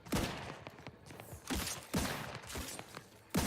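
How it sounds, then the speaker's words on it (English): Gunfire in The Outer Worlds 2, a rapid series of sharp, close shots in quick irregular bursts, each crack standing out loudly with short gaps between volleys. "Why are you shooting at the claw, Valerie?"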